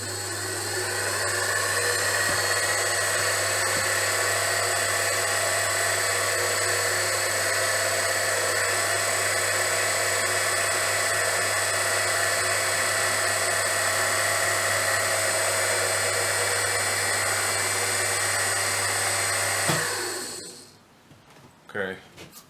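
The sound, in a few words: drill running, drilling a hole for a turntable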